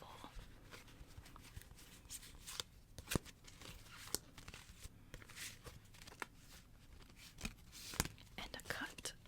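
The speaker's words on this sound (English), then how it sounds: "let's give it a quick shuffle" Tarot deck being shuffled by hand, soft close rustling and riffling card flicks with scattered taps, under quiet whispering throughout.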